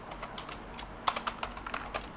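Typing on a computer keyboard, a quiet close run of irregular key clicks with a few sharper taps, no talking.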